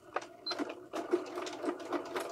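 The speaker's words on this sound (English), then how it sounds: "Now we're going to go back to the machine and again stitch right by the teeth." A sewing machine stitches close beside the teeth of an invisible zipper on a pillow cover with piping, running in quick rhythmic bursts with brief pauses, close and fairly loud.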